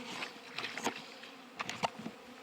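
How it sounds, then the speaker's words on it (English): Honey bees buzz in a styrofoam B-Max hive in spring, with short close buzzing bursts as individual bees pass near, over a low hum. "There's quite a few bees in there"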